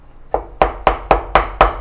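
Garlic chopped on a board with a Chinese chef's cleaver: six sharp, evenly spaced chops close by, each a crisp blade strike with a short thud, rhythm steadying after the first.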